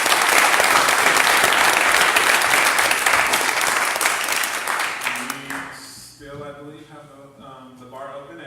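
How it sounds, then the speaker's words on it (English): Audience at a city council candidates forum breaks into loud, dense applause that fades out near the end, followed by a person speaking. "So one more round of applause for everybody."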